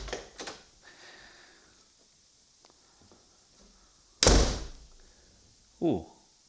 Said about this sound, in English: there's a million ways to slam a door.